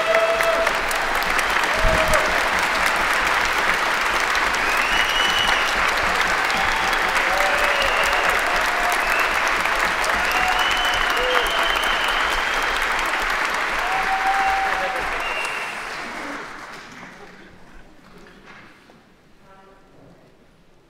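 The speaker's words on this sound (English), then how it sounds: "Let us all stand and give him a big round of applause." A standing audience at a Christmas concert claps long and steadily, a full wash of hands with faint voices and cheers mixed in, before the applause thins and fades away near the end.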